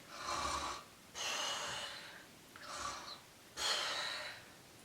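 A storyteller's voice imitates snoring with four breathy, snorting inhale-exhale bursts in a slow, even rhythm, close and moderately loud, with no words spoken.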